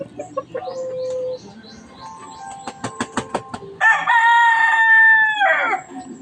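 A rooster crows loudly and close by, one long drawn-out call after a run of clucks and short percussive knocks.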